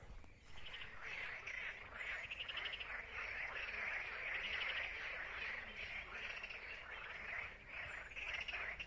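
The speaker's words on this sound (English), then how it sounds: "Okay, frogs. Are you still doing your frog song?" A chorus of frogs croaks near Orleans, France, a dense, continuous pulsing of overlapping calls that stays fairly loud and steady throughout, with a faint murmur of voices underneath.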